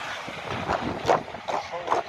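Strong wind buffeting the microphone while inline skating fast with a tailwind on Flying Eagle X7D skates, a broad steady rush with gusty surges about every half second.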